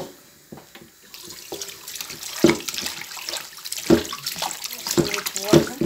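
A Dutch pot is rinsed under a running kitchen tap: a steady rush of splashing water, with sharper sloshes and clunks as the pot is tipped and moved, fairly close and filling the whole stretch.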